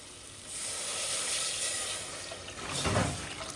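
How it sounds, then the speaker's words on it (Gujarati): Water poured into a hot pan of fish and chilli hisses and sizzles in a steady, fairly loud rush that swells again toward the end. "હવે નાખી દઈએ પાણી રેડી"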